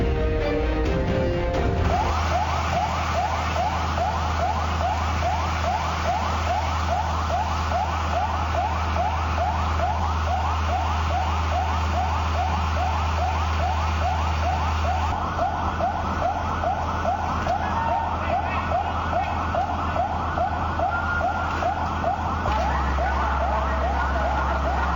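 Loud fire engine sirens wail continuously with a rapid warbling pattern, several overlapping over a deep engine rumble, close by.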